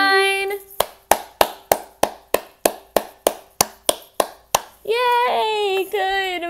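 A group of children clap hands together in a steady, evenly spaced rhythm of about fourteen sharp claps, loud and close, with singing voices before and after.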